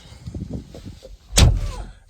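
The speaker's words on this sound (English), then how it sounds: "let's go ahead, close up the door" A Ferrari F8 Spider door thuds shut once, loud and close, after a moment of soft movement and rustling; no talking.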